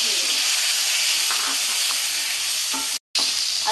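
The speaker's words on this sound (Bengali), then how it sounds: "এবার আমি একটু লাল লাল করে ভাজবো।" Half-boiled potatoes frying with cumin in a pan for a Bengali cauliflower-potato dish, a loud continuous hiss and sizzle with faint stirring knocks and a brief dropout near the end.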